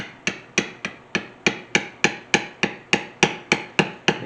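A leather backgrounding tool is lightly tapped on leather by a hammer or mallet, giving fourteen crisp, evenly spaced taps at close range with no other sound.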